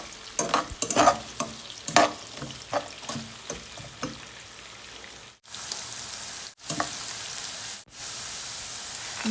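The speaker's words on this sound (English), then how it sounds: "saute for 5 minutes until it's golden brown" Ingredients for lemon rice sizzle as they sauté in a pan, with scraping stirs and clatter over a steady frying hiss that grows louder and more even in the second half, broken by brief pauses.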